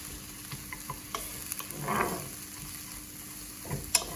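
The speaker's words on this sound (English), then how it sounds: "Listen to our onions, they're starting to sizzle nicely now." Soft, continuous frying sizzle from onions in a pan, with a brief swell of crackling midway and a few light clicks, no talking.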